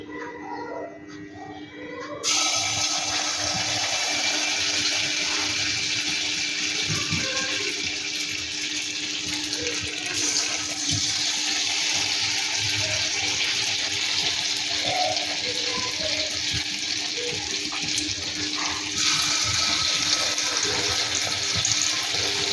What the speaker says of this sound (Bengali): ফুলকপিগুলোকে ব্যাটারে আমি ডুবিয়ে এক এক করে তেলের মধ্যে ছেড়ে দেবো